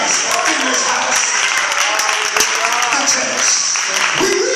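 A church congregation claps hands in praise during a worship service, a dense continuous burst of applause lasting several seconds, loud and close with voices mixed in underneath.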